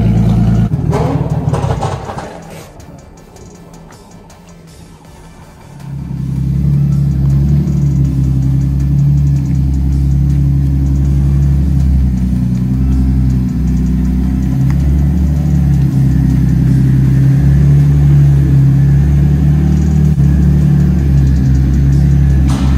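An R34 Nissan Skyline engine roars on a dyno, a loud sustained drone that dips briefly near the start and then climbs back to a heavy, steady rev held for a long stretch.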